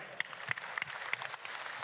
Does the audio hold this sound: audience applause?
yes